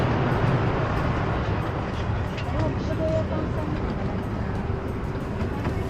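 Steady low rumble of a Chinese bullet train with station ambience, a person talking over the continuous noise.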